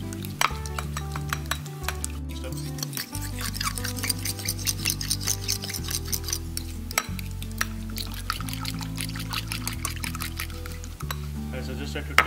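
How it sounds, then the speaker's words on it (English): Egg mixture for a bread omelette beaten with a fork, giving rapid, steady clicking and sloshing throughout, close and moderately loud, with a low hum beneath. "And we're going to start with slow mixing, then we'll start with the beating action."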